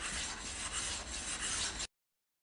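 A Japanese water stone is flattened by rubbing it against another stone, giving a close, steady abrasive rasp that runs continuously for about two seconds and then stops, with no talking.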